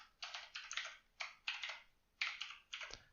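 Fingers type on a computer keyboard while coding, close and clear, in several quick bursts of clattering keystrokes separated by short pauses, with no talking.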